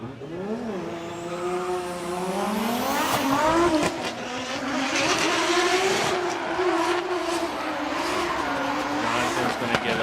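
Drift car making a solo run at Okuibuki Motorpark in Shiga, its engine loud and close, revving and wailing up and down through the corners with tyre squeal and skids as it slides along.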